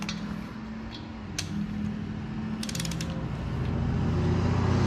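A torque wrench tightening crank bolts on an engine, with ratcheting clicks and mechanical creaks close by and a few brief sharp clicks over a steady low background, no talking.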